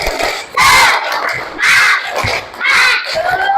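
A class of students doing a rhythmic clap-and-shout cheer led by their teacher in an Islamic religious studies lesson: three loud group shouts in even succession, each with a burst of clapping, all voices together.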